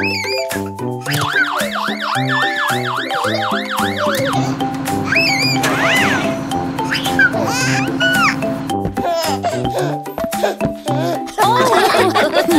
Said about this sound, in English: It's a siren, it's a siren